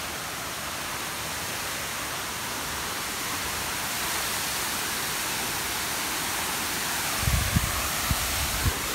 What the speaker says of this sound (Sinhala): අපි ජෝඩු ඇල්ල හොයා ගත්තා.